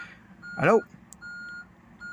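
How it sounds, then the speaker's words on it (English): A van's reversing alarm sounds in repeated steady beeps, fairly quiet and a little distant, with a brief chirp between them. "I thought the car was beeping at me then. It is just a van behind me."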